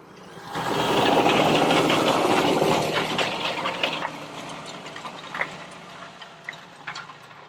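Rubin farm machine working a field during a demonstration, a loud, broad mechanical roar that swells quickly, holds and then fades with rattling and knocking as it passes.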